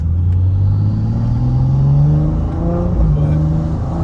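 A BMW M240i's B58 engine with a stage 2 tune, downpipe and intake, droning loud and close with rising and falling revs that build, dip briefly, then climb again.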